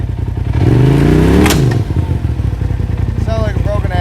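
UTV engine revving hard while its tires spin on pine trail ground, a loud rising and falling engine whine peaking in the middle of the clip, then settling to a rough idle-like drone with a faint squeal near the end.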